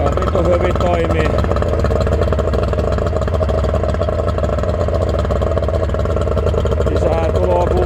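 Boat motor running steadily, a dense continuous engine drone close by from start to finish, with a voice speaking over it.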